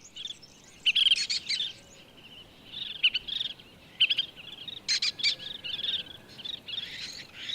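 Anxious birds in Italian farmland call repeatedly after spotting lesser kestrels, giving sharp, high chirps in irregular bursts over a steady faint insect hum, moderately close with no talk.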